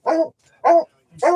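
A dog barks three times in a steady rhythm, close and fairly loud, each bark short and evenly spaced, with silence between and no talking.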